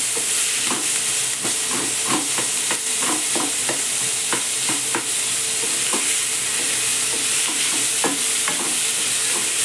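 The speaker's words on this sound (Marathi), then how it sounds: "थोडीशी आपण भाज्या परततो तशी ती चांगली परतू द्यायची." Potato and peanut usal for an Ashadhi Ekadashi fast sautéing in a pan, a constant loud frying hiss with scattered scrapes and taps of a spatula stirring, close and steady with no talking.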